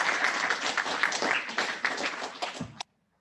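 Applause from a Rotary club meeting audience, a few seconds of steady clapping that stops abruptly, with faint voices mixed in.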